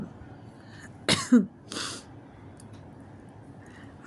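Someone nearby gives a short, rough cough followed by a second throat-clearing burst, with quiet background in between.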